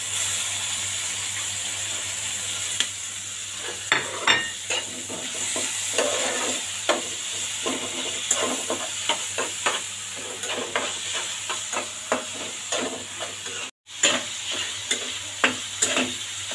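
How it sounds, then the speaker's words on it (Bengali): Chopped garlic fries in hot oil with a continuous close sizzle and hiss, broken by frequent spatula stirring clicks and scrapes and one brief dropout near the end; no voices. "রসুন কুচিটা আগে দিয়ে দেই।"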